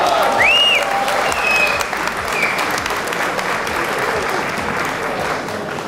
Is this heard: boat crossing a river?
no